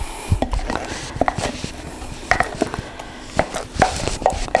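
Corn-free cornbread batter being scraped from a bowl, with a series of close, uneven knocks and scraping strokes of a utensil against the bowl, loud and irregular, with no voices.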